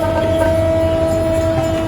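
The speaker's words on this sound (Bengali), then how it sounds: "এই কন্টেনার ট্রেন করে হ্যাঁ, এটা চিটাং যাবে" A Bangladeshi container freight train bound for Chittagong rolls past a halted Bijoy Express, a loud continuous rumble with a steady tonal whine and rhythmic wheel clatter, close and dominant throughout.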